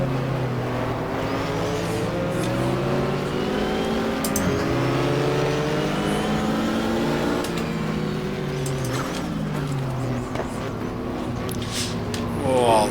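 A Porsche race car engine in the GTR2 racing game at Daytona drones and shifts pitch through gear changes, with other cars buzzing past and a rising rev near the end; continuous and fairly loud.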